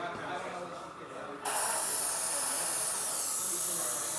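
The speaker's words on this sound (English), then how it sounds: "I'm going to spray out my white." An airbrush blasts out white paint during a deep clean, a steady sharp hiss that bursts on suddenly and holds loud and close after a quieter stretch.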